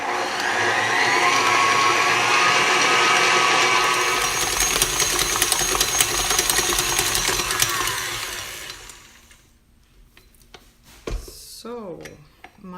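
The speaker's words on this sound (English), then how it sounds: "Next I will knead it for 5 minutes on a fast speed." An electric stand mixer kneads yeast dough at high speed, a loud steady motor whir with rattling bowl noise that winds down and stops near the end, followed by a few clinks.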